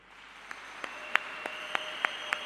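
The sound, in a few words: audience applause at a ceremony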